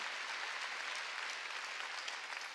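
A church congregation applauds in a steady, even clapping that sounds somewhat distant and fills the whole moment without any talk.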